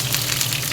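Chopped onion frying in a hot pan, a steady broadband sizzle with a low hum underneath, brief and moderately loud with no voices.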